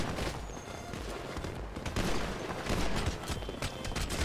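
Rapid gunfire crackles from a GTA V online roleplay session, dense and continuous over a loud game mix for several seconds with no talk.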